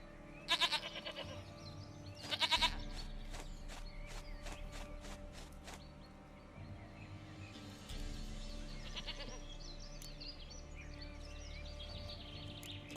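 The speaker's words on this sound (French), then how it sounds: "Une chèvre à moi, gentille, douce, Biquette" Goat bleats from The Witcher 3, two loud close calls early on, then quieter bleating and soft footsteps over a steady game ambience.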